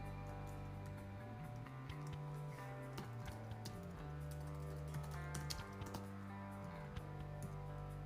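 Typing on a computer keyboard while entering a command during a coding session, a quiet run of irregular close key clicks over a steady tonal hum in the background.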